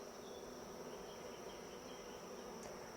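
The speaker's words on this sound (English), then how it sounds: "You can see bees are already fanning here." Swarm of honeybees fanning at a hive, a continuous even buzzing hum with a thin high whine, close and constant, with no talking.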